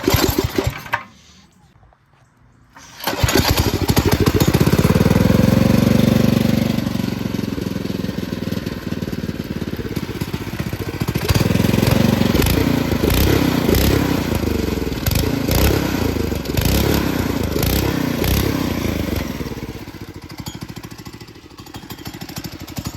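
An old go-kart engine catches and settles into a loud, close idle that sounds rough and uneven, with a pulsing, throbbing rumble that surges and sags over a long stretch.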